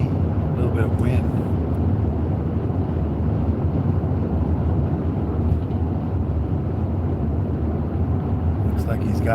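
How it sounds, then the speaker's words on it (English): Steady, loud roar of wind buffeting a moving vehicle on a road trip, a continuous low rumble with no pauses from start to finish. "Yeah, it's kind of windy, a little bit of wind."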